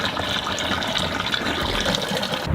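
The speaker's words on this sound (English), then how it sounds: "Keep rinsing the filter until the water runs clean and no more dirt's being washed away." Water rinsing a K&N cone-style air filter, a steady broadband splashing rush that runs continuously and evenly throughout, close and moderately loud, with no talking.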